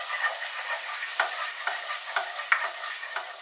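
A spoon works through bob chorba, a Bulgarian bean soup, in a pot, giving a steady wet scraping and sloshing with soft periodic knocks, close and moderately loud with no talking.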